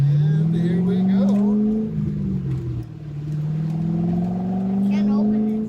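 A C6 Corvette engine humming in steady harmonic tones inside the cabin, dipping briefly as it shifts and then rising again as the car accelerates, with talk over it.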